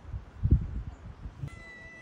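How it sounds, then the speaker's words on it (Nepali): A black cat meows near a path in a Bhutan national park, one short close call followed by a faint second cry, with outdoor background noise and no talk. "कालो बिरालो छ त"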